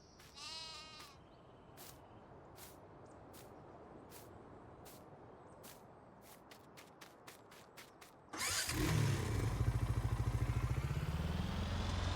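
Sheep bleat in Farming Simulator 19 on the Agrar TSZ map, a few quavering calls near the start, followed by scattered clicks and then a sudden loud, buzzing machine-like drone taking over the last few seconds.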